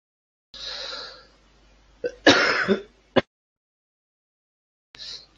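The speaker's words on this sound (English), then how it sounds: "spare my coughing" A man coughs and clears his throat indoors: a short rasp, a pause, then a harsher double cough with a sharp final hack, and one faint cough a moment later.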